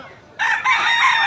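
A rooster crows loudly and close by, one sustained cock-a-doodle-doo among chickens on display at a poultry market in Bocaue.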